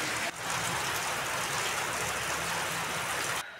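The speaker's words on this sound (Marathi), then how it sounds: "एवढा पाऊस आहे आता" Heavy rain pours down steadily, a loud continuous hiss that starts abruptly and holds unbroken for several seconds before easing off at the end, with no voices.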